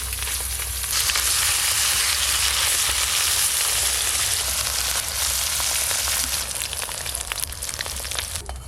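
Spiced katla fish belly pieces from a large katla fry in hot oil, giving a loud, steady, close sizzle that crackles evenly throughout with no voices.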